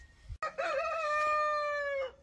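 A Light Brahma rooster crows once, close and loud: a single long cock-a-doodle-doo that rises, holds a strong sustained note and trails off, with quiet farmyard background before it.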